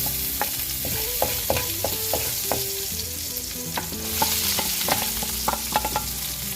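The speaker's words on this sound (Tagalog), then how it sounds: "Gisal sa ta sa ahos." Garlic sautéing in a pan for Cebu-style pork rib caldereta, a continuous sizzle broken by repeated sharp knocks and scrapes of a spatula against the pan.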